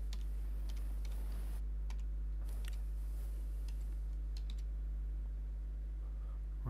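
Quick, light key clicks on a computer keyboard as a password is typed, a short irregular burst of taps over a low steady hum, with no talking.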